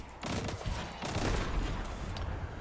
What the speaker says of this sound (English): shoot all the Fallen you can, so you can get the progress going